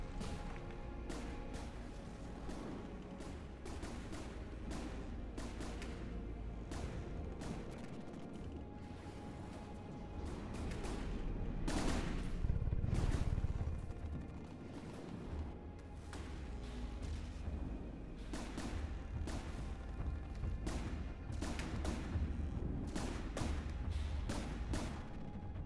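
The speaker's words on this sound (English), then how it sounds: "So here come the anti-flak cannons" Anti-flak cannons and missiles firing during a naval battle involving a patrol boat in the game From the Depths, heard as dense, continuous rapid thuds and bursts with a louder swell of explosions midway, sustained throughout.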